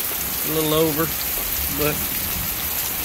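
Steady rain falls during a thunderstorm, a constant hiss of drops on surfaces outdoors, while someone speaks briefly over it.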